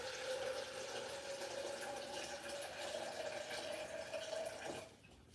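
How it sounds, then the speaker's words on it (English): Water pours steadily into a cooking pot holding sausage, red potatoes, mussels and corn, a faint continuous trickling stream lasting several seconds before cutting off abruptly. "I'm going to add a little bit of water to it"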